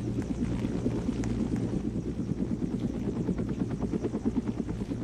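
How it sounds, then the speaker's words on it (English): A video-game helicopter flies on, its steady rotor chop and engine drone loud and continuous throughout with no talking. "it's so hard to drive helicopters in this game"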